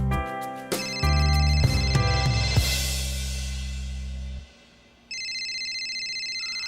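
A phone rings with an incoming call: a loud, repeating electronic melody of bright tones plays for several seconds, stops, then after a short pause a higher, rapidly pulsing ring tone begins.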